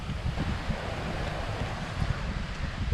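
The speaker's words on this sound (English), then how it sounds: "The wind's just picked up a little bit just this afternoon, unfortunately." Wind blowing near a waterfall in Cape York national park, a steady broadband rush with low buffeting gusts against the microphone, fairly quiet and continuous, no voices.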